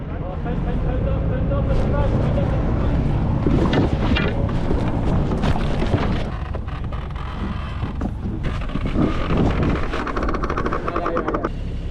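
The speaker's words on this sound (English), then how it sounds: "just be careful because the boat's rocking and rolling" Strong wind buffets a small boat, with a steady, close rush of noise and water movement throughout; muffled voices come and go underneath.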